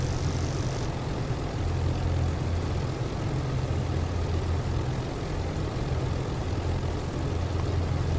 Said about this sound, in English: Ghetto, I'm about to take off now.